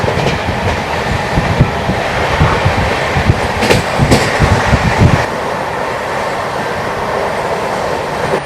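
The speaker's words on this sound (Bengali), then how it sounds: "নিউ জলপাইগুড়ি থেকে ট্রেন ছাড়ার পর একেবারে দুরন্ত গতিতে ছুটছে, দেখুন।" An Amrit Bharat Express races at high speed after leaving New Jalpaiguri, a loud, continuous rushing roar with rhythmic wheel clatter and rattling, heard from inside the coach, easing slightly near the end.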